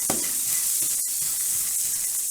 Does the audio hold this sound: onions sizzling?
yes